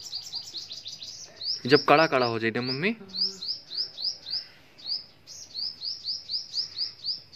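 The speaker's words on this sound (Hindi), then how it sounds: "देखो चिड़िया विड़िया बोल रही, इतनी छोटी छोटी चिड़िया, इतनी नन्नी नन्नी," Small birds chirp in quick, repeated high tweets that run through the whole stretch, with someone speaking briefly over them near the start while turmeric is pounded into powder for a homemade halwa.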